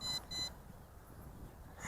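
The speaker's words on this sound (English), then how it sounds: "Hold it down and to the right until you hear beep. I heard the beep." An MJX MG-1 GPS drone emits two short, high electronic beeps in quick succession during compass calibration, close and clear, followed by quiet background hiss.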